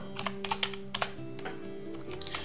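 Keystrokes on a computer keyboard while entering a label into an Excel spreadsheet cell, a quick irregular run of close, light clicks with short pauses between bursts, heard alone.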